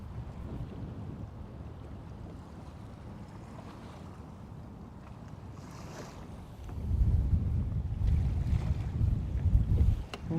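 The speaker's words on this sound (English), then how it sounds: "It is nice and breezy out here." Wind blows across Lake Guntersville as heard from a fishing boat, a low rumbling buffet on the microphone that swells noticeably louder in gusts toward the end, with faint water and boat sounds beneath and no talking.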